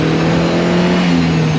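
A Secma Fun Buggy engine holds a loud, close, steady buzzing rev during a heel-and-toe downshift, with no voices.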